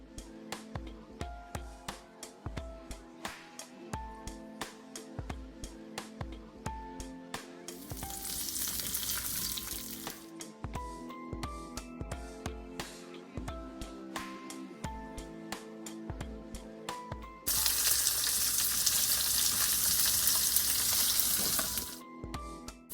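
Squash cooking in a pan of fat gives a loud, steady sizzle in two bursts, one brief and one longer near the end, with rhythmic background music running throughout.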